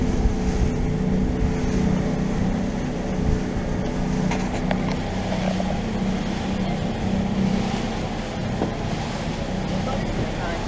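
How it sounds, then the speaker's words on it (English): A yacht approaching on the water off Crete, heard as a continuous motor drone with hull and wave wash beneath strong wind noise on the microphone, a voice speaking briefly over it. "we've got a yacht heading our way"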